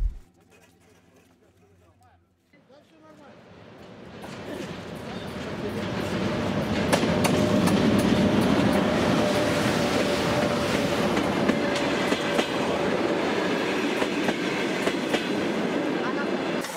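A freight train rumbles in after a quiet start, building to a loud, sustained rolling roar with scattered clanks and clicks that carries through to the end.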